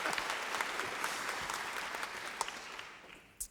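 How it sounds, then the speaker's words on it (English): Brief, dense clapping from a comedy show's studio audience, steady for a few seconds before fading out, with a sharp clack near the end. "Please clap."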